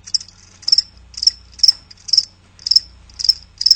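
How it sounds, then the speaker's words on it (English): A cricket chirps in evenly spaced, bright trills, about two per second, close and clear against a quiet background with a faint low hum. "That's right, crickets."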